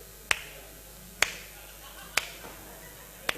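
A stand-up comedian on stage clapping like a wedding guest: four crisp, isolated hand claps spaced about a second apart, sharp and close, with little else around them.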